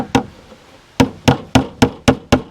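A hammer drives a poultry staple into the corner of a wooden rabbit nesting box: one sharp strike, a pause, then six quick evenly spaced blows, close and crisp.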